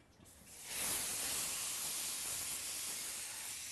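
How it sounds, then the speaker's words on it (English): A butterflied leg of lamb hits the flat grill of a barbecue, bursting into a loud, steady sizzling hiss that swells within the first second and holds, with no talking. "we're just going to put that straight on to the flat grill of the barbecue"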